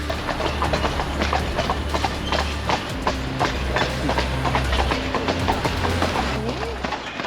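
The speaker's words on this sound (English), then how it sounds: "So your 2 horses today are Mac and Jock" Two horses pulling a carriage clip-clop steadily at close range, a brisk rhythmic patter of hooves over a rolling wheel rumble and jingling harness, with people talking in the background.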